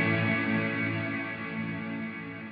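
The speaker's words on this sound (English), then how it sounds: "Really nice, big, almost hall-like reverb." Hypersphere reverb from an Encounter Ambient Delay+Reverb pedal, a big, hall-like wash of sustained tones that rings on steadily and evenly throughout, with no voice over it.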